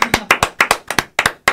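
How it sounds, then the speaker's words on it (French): A small audience claps in a short, sparse burst, with about eight distinct, sharp claps ringing out close and loud. "On pourrait peut-être l'applaudir."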